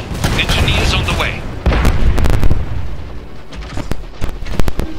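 Enemy artillery fire in a WWI video game: several heavy booms and sharp blasts land irregularly amid battle noise, with game voices talking over them.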